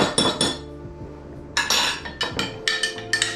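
A metal teaspoon clinks against a dish while Thai red curry paste is scooped in for salmon noodle parcels, a series of sharp, bright ringing taps in quick irregular bursts, close and fairly quiet, with no talking.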